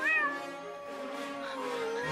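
A cat stuck up in a tree meows in long, drawn-out wailing calls, moderately close, rising and falling in pitch with no voices over it.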